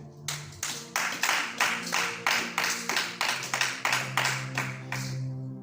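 A church congregation claps in a steady, rhythmic beat, about a dozen sharp, close claps in even time that end in a brief held tone.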